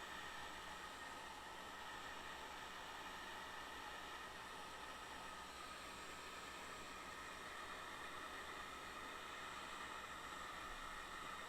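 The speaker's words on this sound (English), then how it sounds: "enough with the white noise generator" A white noise generator hisses steadily, a broad, even wash of noise that holds constant from start to finish with no other sounds.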